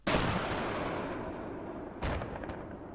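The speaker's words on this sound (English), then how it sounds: "you've got the FIM-92F, the Stinger missiles." Stinger FIM-92F anti-air missile launches in a Mars vehicle-testing game with a loud booming whoosh, a long fading roar behind it, then a second sharp blast about two seconds later.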